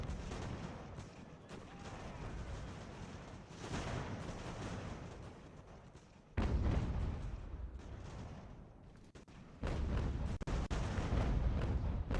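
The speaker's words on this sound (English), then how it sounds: "we've got these two batteries firing almost into the flank of this enemy infantry coming up this way" Cannon batteries of 3-ton galloper guns fire in the Ultimate General: American Revolution video game, with repeated deep booming blasts and rumbling volleys, some sudden and loud, over continuous battlefield din.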